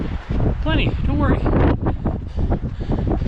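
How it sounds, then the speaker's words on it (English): Steady wind noise buffets the microphone on a high trail during a 100-mile endurance run while a person talks briefly. "It's windy up here though"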